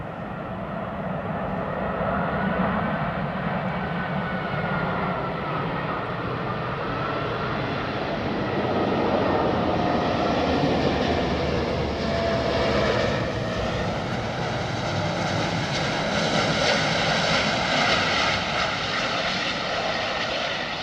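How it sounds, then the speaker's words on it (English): Rolls-Royce powered airliner landing at London Heathrow, a loud sustained engine roar with a whining tone that shifts in pitch as it approaches and passes overhead, no talk. "Oh, listen to it coming, man. Rolls Royce."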